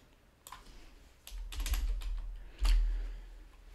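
Typing on a computer keyboard sounds as bursts of close, crisp key clicks in irregular clusters, with short pauses between groups and a few louder strokes, and no talking.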